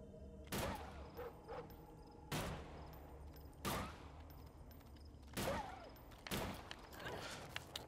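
Repeated gunfire in the zombie video game Them And Us, with several loud broadband shots spaced a second or two apart over a low ambient hum.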